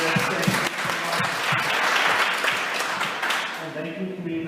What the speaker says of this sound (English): Can we all give them a big round of applause for organizing this?